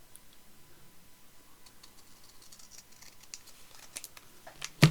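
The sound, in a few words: cutting sticker paper with scissors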